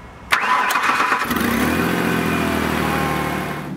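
A truck engine cranks briefly and catches, then settles into a loud, steady idle close by.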